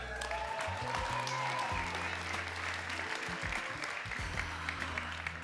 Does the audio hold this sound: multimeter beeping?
no